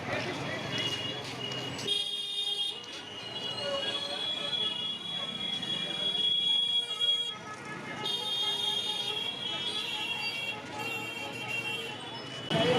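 Busy railway station forecourt at Puri during the Snan Yatra festival, with trains squealing on the rails, rumbling railcars and an occasional horn toot amid crowd noise and talk throughout.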